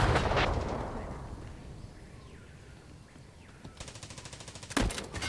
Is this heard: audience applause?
no